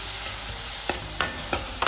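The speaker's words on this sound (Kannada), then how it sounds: "ಎಲ್ಲನೂ ಎಣ್ಣೆ ಒಳಗನ ಫ್ರೈ ಮಾಡ್ಕೊರಿ" Spices sizzle steadily in hot oil for drumstick sambar, with a few sharp scraping strokes as they are stirred in the pan.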